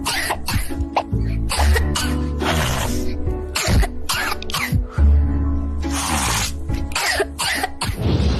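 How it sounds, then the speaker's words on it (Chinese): A young child's coughing played back from a recording: a run of repeated, harsh coughs with short gaps and some sniffling, close and fairly loud, with no talking. "在接下来呢再听一段小孩的咳嗽声"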